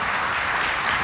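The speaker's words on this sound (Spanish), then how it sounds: "Le da ese aplauso al Señor." A church congregation applauds together, a dense, continuous wash of many hands clapping at once, loud and sustained through the brief moment.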